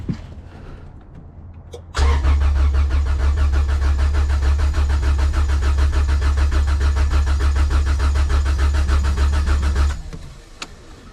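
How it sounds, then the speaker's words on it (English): Honda B20Z engine swapped into a CRX cranking, a loud steady rhythmic churning starter drone running for about eight seconds, then stopping, heard alone at close range. "let's go and try to crank this thing over"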